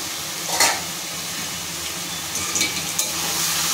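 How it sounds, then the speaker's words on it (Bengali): Bottle gourd with bori stirred in a hot pan, a steady frying hiss carrying through with a few soft scraping strokes of a spoon, close and alone without any voices. "এটা নেড়ে চেড়ে ভালো করে মিশিয়ে নিয়ে আমি আবারও চাপা দিচ্ছি।"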